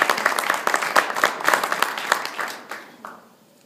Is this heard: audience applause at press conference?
yes